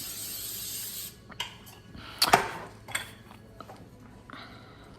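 A brief aerosol hiss onto a skillet pan at the start, then clinks and scrapes of cookware handled up close, and another short spray hiss near the end.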